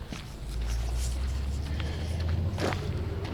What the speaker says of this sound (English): you're hearing cars coming down on the road that I came in on